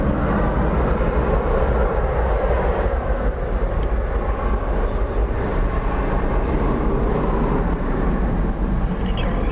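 An Airbus A321 airliner departing DFW Airport gives a steady, loud, broadband jet engine roar that holds for the whole stretch, heard alone without talking.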